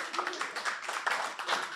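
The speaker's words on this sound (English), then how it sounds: "So let's give her an applause." A small audience at a holacracy panel meetup in Amsterdam claps for a panelist, with light, uneven hand claps from a few people that sound close and modest and last just under two seconds.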